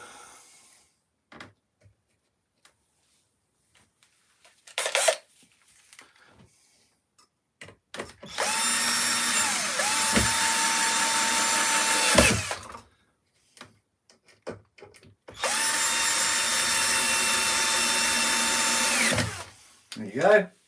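A power drill drives screws into wood in two sustained whirring runs of about four and three seconds, loud and close, with quiet handling clicks and taps between them.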